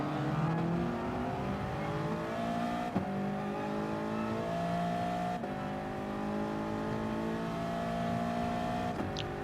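A McLaren race car in Gran Turismo Sport screams at high revs, its engine pitch climbing steadily through the gears with quick shifts, loud and continuous with no talk.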